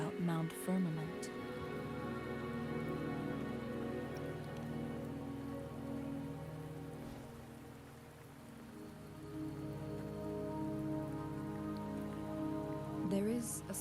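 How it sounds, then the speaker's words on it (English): Steady rain falling in the video game Wuthering Waves, a constant soft hiss of drops on surfaces under game music, with speech in places. "Don't worry, the rain won't last much longer."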